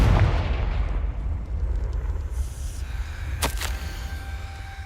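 A Confringo blasting spell detonates in Hogwarts Legacy, giving a deep, rolling explosive rumble that holds steady for several seconds, with a couple of sharp cracks partway through.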